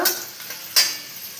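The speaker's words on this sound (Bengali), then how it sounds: "ফুল কাজুগুলো ভাজা হয়ে গেল" Cashews fry in oil with spices, heard as a short soft sizzle broken by two brief scraping stirs close by.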